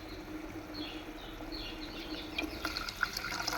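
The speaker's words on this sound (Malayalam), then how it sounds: "ഇനി ഇതിലേക്ക് നമ്മൾ ഈ തിളയ്ക്കുന്ന ഇതിലേക്ക് നമ്മൾ കുറേശ്ശെ വെള്ളം നമ്മൾ ഒഴിച്ചു കൊടുത്തുകൊണ്ടിരിക്കുകയാണ് കേട്ടോ." Water is poured little by little into minced chicken soup boiling over a high flame, a faint, quiet trickle with light bubbling that grows slightly livelier toward the end.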